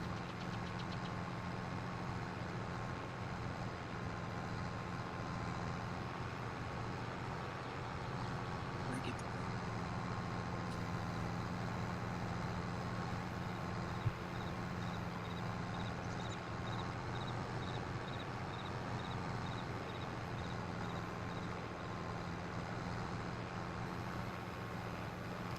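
A tractor engine runs steadily in Farming Simulator 22, a continuous mid-pitched idling drone through the whole stretch, with a voice talking over it.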